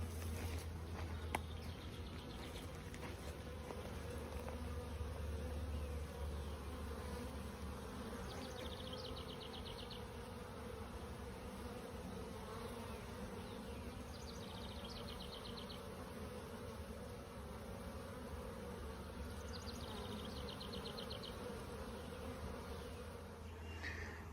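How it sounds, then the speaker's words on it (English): A swarm of honey bees gathered around a hive in Jackson, New Jersey, buzzing in a continuous, dense, steady drone that stays faint and outdoors, with no talk. "There's still a lot of bees going up there."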